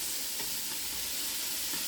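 Steady sizzling hiss of beef stroganoff cooking in a hot pot, continuous and fairly quiet, with no voices.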